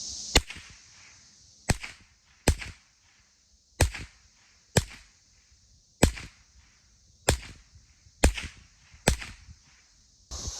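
A .22 LR rifle fires about ten sharp, snappy shots at irregular intervals, each a brief crack with a short decay and quiet between them.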